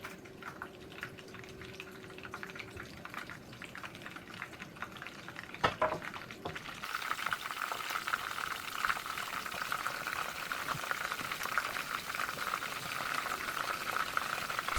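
Mussel skewers frying in a pan until golden brown: a soft bubbling sizzle, a sharp clink near the middle, then a louder, dense, continuous spitting hiss for the rest.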